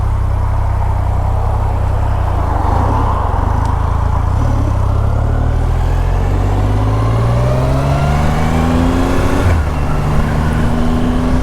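A Triumph Rocket 3 motorcycle engine pulls away on a demo ride, a loud, close, deep rumble rising steadily in pitch through the gears with one brief dip and recovery near the end.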